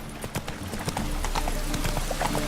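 Roach, the horse in The Witcher 3, gallops in a quick, steady clip-clop of hooves, close and clear, with faint background game sounds and no talking.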